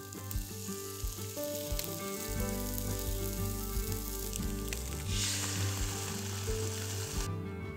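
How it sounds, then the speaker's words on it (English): Waffle batter sizzles steadily in a preheated waffle iron, a continuous soft frying hiss heard close up beneath background music. "Then cook in the preheated waffle iron for about 5 minutes."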